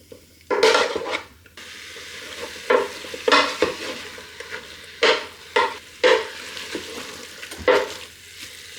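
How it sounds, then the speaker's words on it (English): Mince breaking up under a wooden spoon while sautéing in a Ninja Speedi, with irregular scraping and knocking strokes against the pot over a low, steady sizzle, close and fairly loud, and no talking. "So wooden spoon, pop it in and start breaking up your mince."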